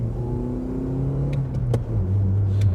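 A lowered BMW E46 Touring is driven hard, its engine droning and rising in pitch under load from inside the car, with a few short rattles and knocks partway through.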